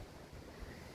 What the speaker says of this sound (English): Wind's kicking up today, a little breezy